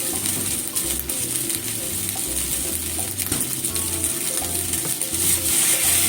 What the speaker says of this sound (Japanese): 中火で炒めてますけど